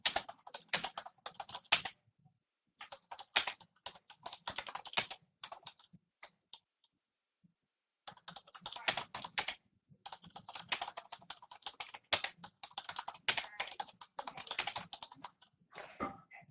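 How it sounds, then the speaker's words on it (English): Bursts of fast key clicks from someone typing on a computer keyboard, close and crisp, in irregular runs broken by short pauses. "and then I'll type it out"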